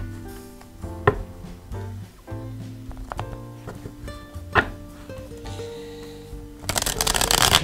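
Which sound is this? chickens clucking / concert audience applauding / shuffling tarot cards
shuffling tarot cards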